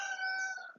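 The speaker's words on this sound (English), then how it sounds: "now the rooster started." A rooster crows once, a bright sustained call that trails off, somewhat distant and faint against a quiet background.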